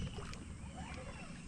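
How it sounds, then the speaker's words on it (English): A trolling motor runs on a kayak out on the water, a steady low hum under broadband water and wind noise, close to the boat with no voices. "Oh my God, trolling motor."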